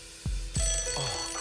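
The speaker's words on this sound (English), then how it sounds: "Graham, this could be the most important phone call you've ever received." A telephone rings on the set of the 2007 Deal or No Deal game show, a couple of short electronic rings over steady studio hum.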